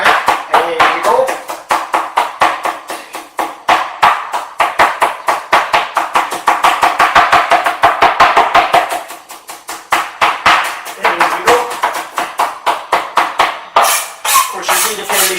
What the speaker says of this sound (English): 3 different types of knife technique